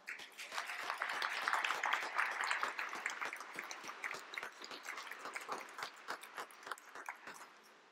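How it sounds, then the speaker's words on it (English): An audience at a university divinity school convocation gives a round of applause, a dense crackle of many hands that swells early, holds, then thins and fades toward the end, with no talk over it. "Please join me in giving them a round of applause."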